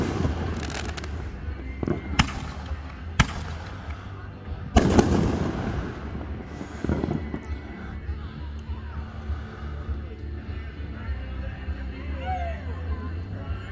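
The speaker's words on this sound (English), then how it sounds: "you're watching live coverage of the Boxholm Fire Department's fireworks live in person" A fire department's fireworks display in Boxholm, Iowa, with several sharp booming bursts and crackles heard at a distance over a crowd murmur, while someone talks throughout.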